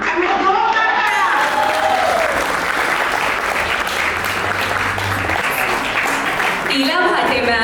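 An audience at a Marathi film trailer launch event claps loudly and steadily, a dense continuous wave of applause with a voice speaking over it near the start and again at the end.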